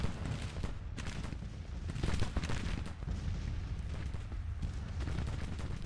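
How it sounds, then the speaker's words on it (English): Continuous rumbling artillery fire in a Civil War battle video game, dense overlapping booms and crackling volleys forming a steady loud roar throughout. "we're just going to support with artillery fire"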